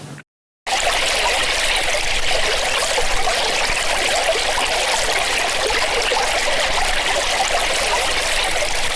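Spring water flowing in a small stream among trees on the outskirts of Khotyn village, Rivne region, Ukraine: a steady, bright rush and trickle close by, starting abruptly after a brief gap and running unbroken to the end.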